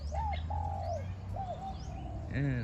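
Several gentle dove coos repeat in a steady pattern over a low hum, ending with a brief, louder warbling call.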